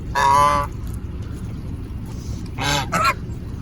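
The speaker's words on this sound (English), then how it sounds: "I think those are the African geese" African geese on a farm honk loudly and close by, two bursts of harsh honking separated by a short gap over a rumbling outdoor background.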